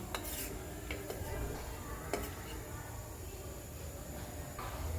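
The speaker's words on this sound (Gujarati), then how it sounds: "એમાં થોડું પાણી એડ કરીશું અને એને સારી રીતે મિક્સ કરીશું" A spoon stirs a cornflour and water mixture in a bowl with soft scraping and a few light clinks over a steady background hum.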